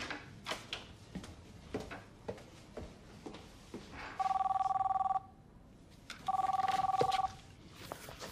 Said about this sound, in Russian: Алло, Паш, привет.